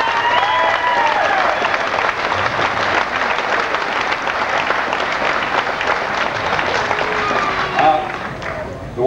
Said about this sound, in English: How about a big round of applause for this guy?